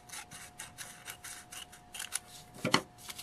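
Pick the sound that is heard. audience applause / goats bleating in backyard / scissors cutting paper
scissors cutting paper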